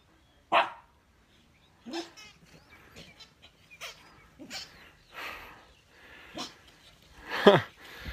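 A dog barking during play with a toy, sharp scattered barks and yips of varying loudness at irregular intervals, with quiet gaps between.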